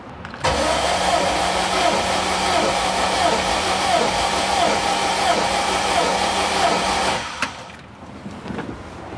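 An air-cooled VW engine cranks steadily on its starter during a compression test, a loud, continuous, even churning that runs for about seven seconds and then stops abruptly.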